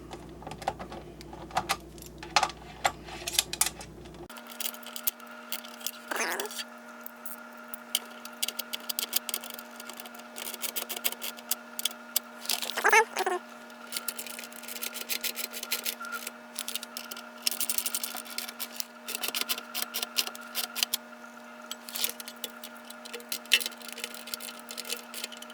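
Nuts are tightened onto carriage bolts on an arcade control panel for Marble Madness, heard as a close series of quick, irregular metallic clicks and ratchet-like ticks over a low steady hum, with no voices.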